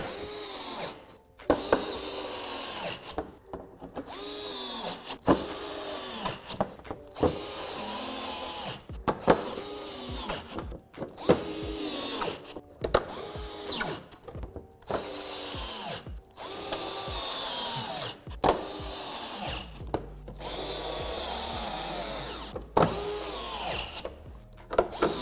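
A power drill drives screws into a Corvette C7 undertray mounting bracket. The motor whirs in repeated short bursts separated by brief pauses, close and steady, with no talking.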